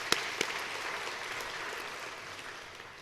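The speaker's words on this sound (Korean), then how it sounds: "다시 한번 격려의 박수 하십시다" A church congregation applauds a youth worship praise contest, a couple of sharp claps opening into a broad, moderately distant wash of clapping that slowly fades.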